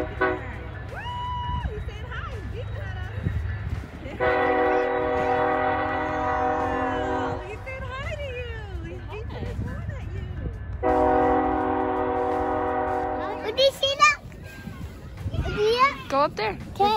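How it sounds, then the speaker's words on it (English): A train at a park sounds two long, sustained horn blasts over its rumbling passage, with children's voices and excited chatter in between and after. "Would you see that train?"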